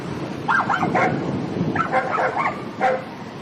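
Several dogs bark in quick overlapping bursts, somewhat distant, over a low rumbling background.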